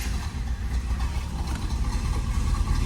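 A 1965 Chevy Impala convertible's engine runs close by at a steady, rumbling idle while the top is raised, a continuous low drone without talk.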